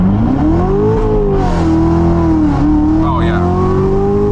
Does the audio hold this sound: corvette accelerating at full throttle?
yes